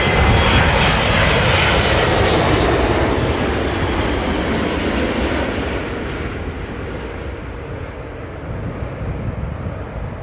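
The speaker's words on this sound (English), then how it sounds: "Now behind we have Emirates coming. Here it is, Airbus 380." An Emirates Airbus A380 comes in to land at an airport, a loud, broad jet roar that swells at first and then slowly recedes and thins into a fainter rumble.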